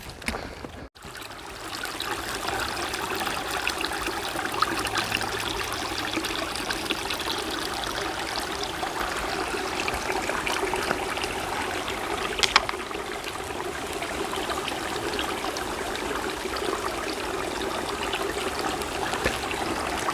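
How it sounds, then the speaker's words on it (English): A babbling brook on the Appalachian Trail flows steadily, a continuous close trickling and gurgling wash of water that stays even throughout, with no voices. "Nice sound of a babbling brook."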